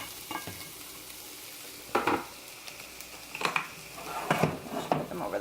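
Eggs being stirred in a frying pan, with scraping utensil strokes against the pan in a few loud bursts over a faint steady sizzle.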